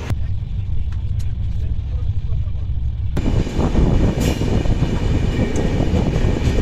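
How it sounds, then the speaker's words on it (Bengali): The SMVT Bengaluru–Kamakhya AC Super Fast Express rumbles steadily from inside an AC three-tier coach, the roar jumping louder partway through as the wheel and track noise swells. "ট্রেন কিন্তু আমাদের এখন চলছে চেন্নাই শহরের উপর দিয়ে"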